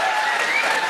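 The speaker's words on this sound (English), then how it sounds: "Round of applause for pedo teachers," Comedy club audience applauding at a stand-up show, a dense, steady wash of clapping from a large crowd that carries through the whole short moment without any voice on top.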